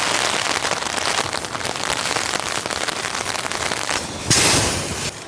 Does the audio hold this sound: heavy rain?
yes